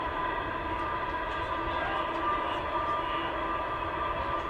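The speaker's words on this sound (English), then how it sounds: "hearing trains coming past quite regularly is quite a comforting, soothing sound" A train passing near a rail siding in Sydney's western suburbs, a steady, continuous rumble with a droning tonal hum, moderately loud and unbroken throughout.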